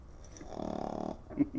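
A dog snores indoors, one pulsing, rattling snore of about half a second, fairly close and moderately loud, followed by a brief snort.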